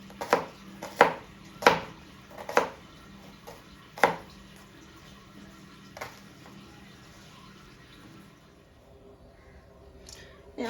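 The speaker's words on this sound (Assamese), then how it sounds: "পিয়াজটো মই ভাজি ল'ম তাৰ কাৰণে অকণমান ডাঙৰকৈ কাটিম" Onion being cut into large pieces with a knife on a board, six or seven sharp chops in an uneven rhythm that thin out and stop, then a faint clatter at the end.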